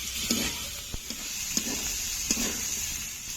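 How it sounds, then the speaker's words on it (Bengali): Fried vegetables sauté in a pan with melted tomato, giving a steady soft sizzle with a few sharp clicks of a spatula against the pan. The cooking sounds faint and close, and nobody speaks. "এখন দিয়ে দেবো ভেজে রাখা সবজিগুলো। কিছুক্ষণ কষে নেব।"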